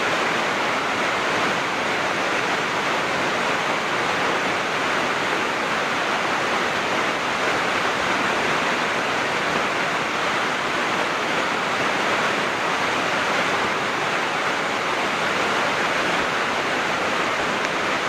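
Water rushes over a spillway in a steady, dense roar with no letup, loud and close, with no voices heard.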